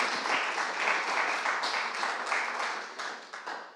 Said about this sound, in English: Let's keep the applause going for Houston Smith and Eric Kaplan